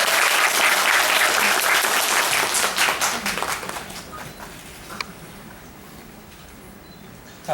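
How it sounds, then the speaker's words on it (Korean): Applause from a theater audience welcomes a guest to a post-performance talk, starting loud and dense and then thinning out and fading into a quiet room. "네, 박수로 맞이해주시기 바랍니다."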